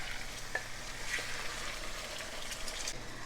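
Large chicken pieces fry over medium-high heat with cumin and black pepper for Karachi-style biryani, a continuous close sizzle with faint crackles and occasional stirring, no talking.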